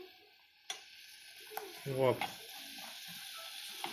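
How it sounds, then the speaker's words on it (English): Hotcakes with apple and a cinnamon, sugar and butter mixture sizzle softly in a frying pan, a low steady crackle under a brief spoken word. "let them sizzle for about 3 minutes"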